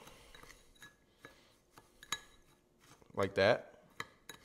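A utensil scrapes and clinks against a bowl while mixing breadcrumb topping for crab stuffed mushrooms, scattered taps and clicks with a brief louder scrape, and someone speaks briefly.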